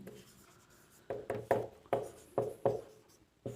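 Chalk or marker strokes on a board come in a quick series of short, distinct scratchy taps, close and clear, with brief pauses between bursts and no talking.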